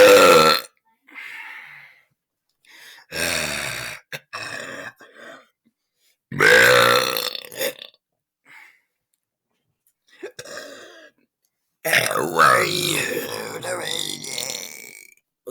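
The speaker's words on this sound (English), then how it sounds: "I'm gonna try to do a voice with it while doing the burp." A person lets out a series of long, loud burps, shaping them as if speaking, in several separate bursts with silent gaps between them.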